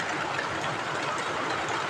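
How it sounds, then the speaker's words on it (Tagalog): A motorcycle engine runs steadily nearby in rainy weather, a continuous even drone with a slight rough, knocking texture throughout and no talking. "Yung motor na yan."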